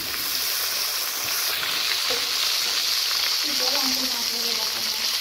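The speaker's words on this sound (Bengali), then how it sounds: "আমাদের মাছ ভাজা হচ্ছে" Fish sizzles steadily in a hot pan of oil, a continuous close crackling hiss that holds level throughout with a few faint clinks, and no one speaks.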